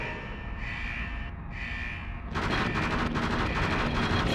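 Rockets fire in the video game Tunnel B1 as a harsh, dense roar of noisy blasts, with a louder, more intense barrage beginning midway and continuing to the end.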